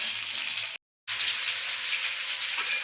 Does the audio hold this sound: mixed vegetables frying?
yes